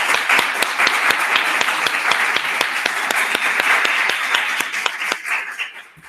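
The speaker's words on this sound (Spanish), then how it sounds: "Vamos a darle un aplauso de despedida a Antonio." A farewell round of applause for Antonio Guirao Piñera after a talk on how an epidemic grows, with sharp individual claps standing out from a dense steady wash of clapping that tapers off near the end.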